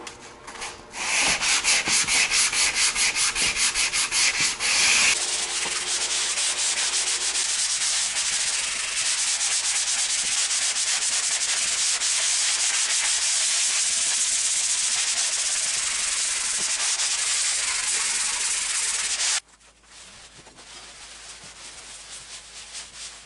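An office wall is sanded, knocking down high spots of drywall joint compound in long continuous abrasive strokes. The harsh rubbing hiss is close and loud, changes texture after a few seconds, and stops abruptly near the end.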